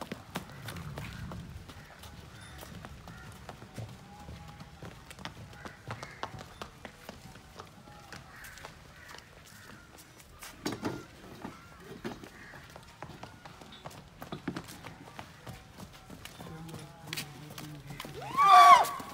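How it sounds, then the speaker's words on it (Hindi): Horse moving about at a horse farm, with scattered hoof taps and clip-clop through the clip and a short neigh near the end, amid background talk. "एक बार का विनर घोड़ा है जी माशाल्लाह, बहुत ही तेज, बहुत ही जबरदस्त घोड़ा है।"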